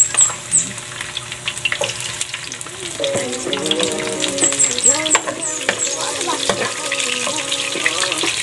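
Garlic sizzles loudly in a pan while being stirred for a homemade chicken curry, with crackling fry noise throughout and clattering stirring sounds on top.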